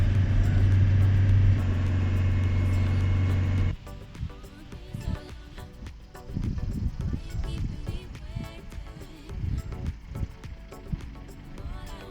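Traffic on the Grossglockner High Alpine Road in the Austrian Alps, including vintage cars and Porsches: a steady engine hum for a few seconds, then a rougher, fluctuating rush of passing vehicles, fairly close.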